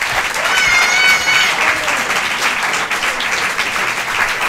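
A theatre audience applauds, a dense, loud wash of clapping that stays full and even throughout, with a few voices rising faintly in the crowd.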